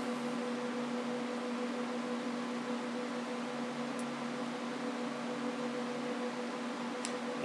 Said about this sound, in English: And this is a hot wire L-bar sealer.